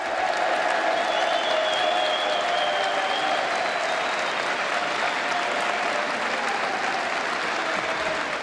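Prisoners in Milan applaud during a papal visit, a continuous, even roar of many hands clapping that holds steady throughout, with faint crowd murmur underneath.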